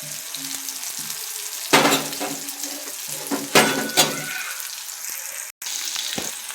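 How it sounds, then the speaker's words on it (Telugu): Tomatoes fry in oil for an egg curry, a steady loud sizzle with a few sharp scraping stirs and clatters of the spoon against the pan. "ఇది ఒక 2 నిమిషాలు టమాటా బాగా వేగాలి."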